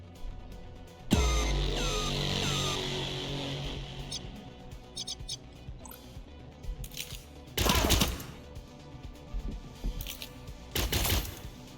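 Gunfire in the sci-fi tactical video game Cyber Knights Flashpoint, with a sharp blast followed by a ringing tail, then several more loud bursts later over a faint synthetic game ambience.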